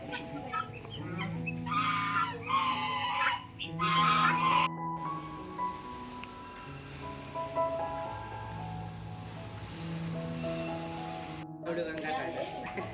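Hens cluck repeatedly at close range in a broken, irregular rhythm while people talk over them.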